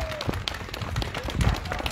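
An audience applauds at a charity fundraising finale in Męcinka, a continuous busy patter of clapping with scattered voices in the crowd.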